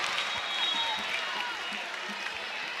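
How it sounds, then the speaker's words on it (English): Steady crowd cheering and applause at a 2024 ACC volleyball match in Carmichael, Duke versus North Carolina, at match point for Carolina, a dense continuous roar with clapping throughout. "Boy, what a great crowd here tonight in Carmichael."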